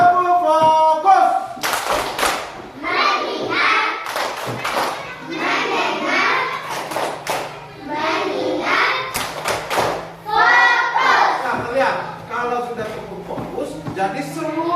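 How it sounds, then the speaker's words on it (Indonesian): Schoolchildren in an Indonesian classroom clap a "tepuk fokus" focus rhythm, with sharp, loud bursts of hand claps and thumps grouped into patterned phrases while young voices chant along. "Tepuk fokus."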